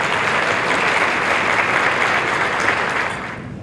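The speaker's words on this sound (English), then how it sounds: "Let's give a round of applause for our beaux." An audience at a Jack & Jill cotillion applauds the beaux, a full, even roar of clapping that holds steady and then begins to thin toward the end.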